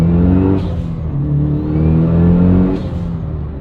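A built 500 hp Mitsubishi Lancer Evo running 34 psi of boost on E85 roars loudly and close as it accelerates hard, a thick, sustained engine drone that climbs through revs with short breaks between gears.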